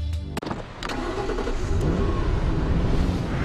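MG ZT with a 4.6-litre V8 engine revving up close: a few sharp clicks, then the engine rises into a loud, steady, throaty growl that holds to the end.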